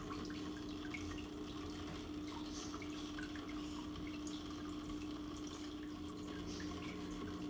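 A small aquarium water pump runs steadily in a nano paludarium for fire-belly toads, giving a continuous watery trickle and hum with a faint tonal drone, fairly quiet and unbroken throughout.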